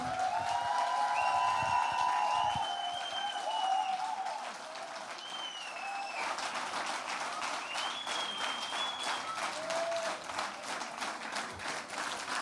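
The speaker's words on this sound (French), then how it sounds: "Un tonnerre d'applaudissements pour Cody." Audience applause at an evening campaign event, sustained dense clapping from a crowd throughout with scattered whistles or cheers on top, fairly loud and continuous.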